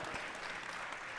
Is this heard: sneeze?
no